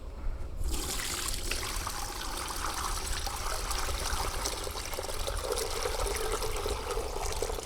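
Compost water pours through a plastic mesh filter as a steady, continuous splashing trickle, moderately close and unbroken for several seconds, with no voices.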